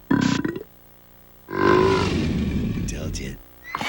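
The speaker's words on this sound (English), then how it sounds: "Prove it with relish. A burp challenge" A long cartoon burp in a burp challenge, loud and guttural, following a short vocal sound and trailing off near the end.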